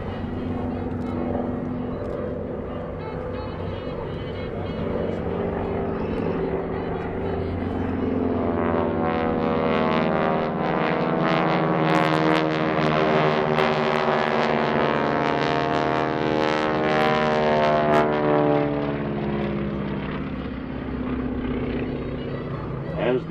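GEICO Skytypers solo planes, World War II–era aircraft at an airshow, roar past with a steady propeller drone that swells and sweeps as they fly by, while an announcer talks throughout.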